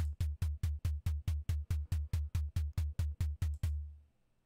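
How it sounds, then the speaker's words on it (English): Synthesized kick drum built from stock plugins in FL Studio, sixteen punchy, evenly spaced hits at a steady tempo, each a deep thump with a sharp click on top, the last one ringing out longer before silence. "So there's a simple kick sound right away."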